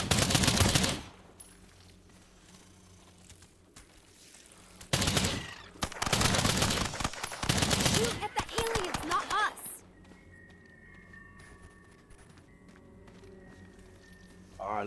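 Bursts of AK-47 automatic fire from the video game Earthfall rattle out loudly in several long volleys. Quieter stretches of game ambience and movement fall between them.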